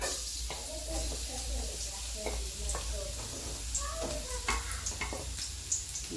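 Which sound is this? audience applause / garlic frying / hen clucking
garlic frying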